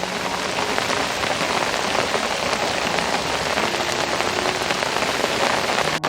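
Steady rain falling on a garden with wild roses, a dense, even patter of drops on surfaces throughout, close and continuous, with no voices.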